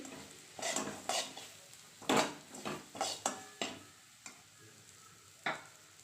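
A spoon stirs semolina with a small piece of cinnamon and cardamom in a pan for a date-palm jaggery halwa, scraping the metal in a string of distinct close strokes, with a light sizzle in between.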